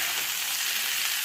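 Vegetables sizzle steadily in hot oil in a pan while being stirred, a dense, even hiss throughout the short stretch with no voices.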